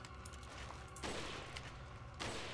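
Rifle gunfire in Resident Evil 4: two sharp, broadband shots about a second apart, each ringing briefly over a low, constant game background.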